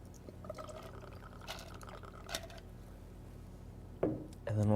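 White Godiva liqueur pours into a cocktail at a lounge bar, a soft liquid trickle heard close up, followed near the end by a sharper clink and splash.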